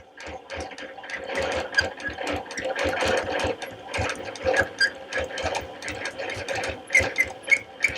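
Sewing machine quilting in the ditch along a ruler with invisible thread, a steady rapid needle chatter running continuously at close range, with brief shifts in pace as the ruler is moved.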